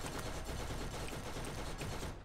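Dense, continuous gunfire from enemies in the Borderlands video game, a steady rattling barrage of overlapping shots filling the whole moment, loud and unbroken.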